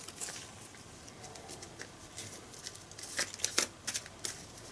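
Deck of Magic: The Gathering cards being shuffled by hand, soft papery riffles and taps in short irregular bursts, close and quiet, growing busier toward the end.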